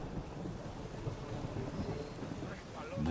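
Storm weather in The Witcher 3: Wild Hunt video game: steady rain hiss with low rumbling thunder underneath, fairly quiet and continuous, growing slightly louder at the end.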